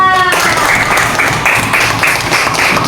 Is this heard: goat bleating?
no